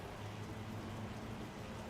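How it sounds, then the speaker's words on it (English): Steady rain in a racing video game at Silverstone or Suzuka, a dense, even hiss of falling drops with a low rumble underneath, continuous and fairly quiet throughout. "Look, it's raining."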